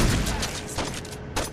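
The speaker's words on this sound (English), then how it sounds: "all the gunfire and explosions on the roof" Dense gunfire in the video game Saints Row 2, with overlapping bursts and sharp shots filling the whole stretch, loud and close, with no talking.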